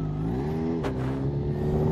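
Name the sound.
Kawasaki H2 motorcycle engine revving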